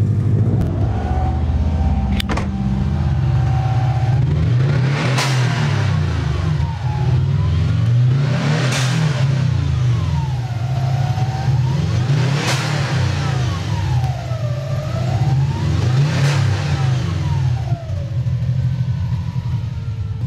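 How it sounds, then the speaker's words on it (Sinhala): A tuned car engine idles with a deep, loud rumble, then revs up sharply four times at roughly even intervals, each rev rising and falling back to idle. "පොඩ්ඩක් අල්ලන්න එන්ජින් එකට සද්ද"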